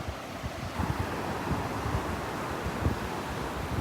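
Ocean surf breaks on a Gulf beach at Delnor-Wiggins park on a morning walk, a steady wash of waves mixed with wind buffeting the microphone, no talk.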